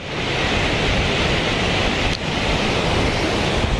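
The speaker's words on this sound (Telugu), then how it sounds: "ఇంత వాటర్ ఫ్లోయింగ్ అవుతుంది కదా" Floodwater rushing at Komati Cheruvu lake in Siddipet, a loud continuous roar of flowing water heard up close, broadband and unbroken, with no talking.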